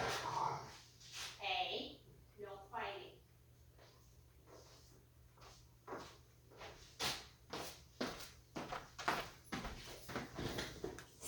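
A dog indoors gives a rapid series of sharp, fairly loud barks and snorts in an uneven rhythm, with a voice speaking briefly near the start.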